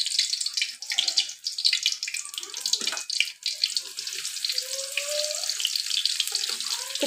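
Garlic hitting hot oil while cooking a potato-lentil fish curry, with dried chillies already in the pan, giving a steady bright sizzle and crackle with light splashes throughout, close and alone.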